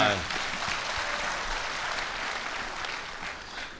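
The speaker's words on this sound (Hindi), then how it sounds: "एक बार तालियां बजा के मुझे हौसला दे दो" An audience at a Republic Day kavi sammelan and mushaira in Dubai claps steadily in a dense, moderately quiet patter, with a brief voice at the very start.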